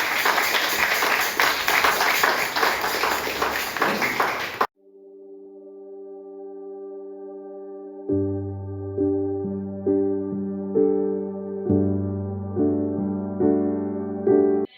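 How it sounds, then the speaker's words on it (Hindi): A church congregation claps for Jesus Christ in dense, steady applause for about four and a half seconds, which stops abruptly and gives way to sustained keyboard or organ chords. "आइए एक बार उत्तम ताली केवल परमेश्वर यीशु मसीह के लिए हम बजाएंगे"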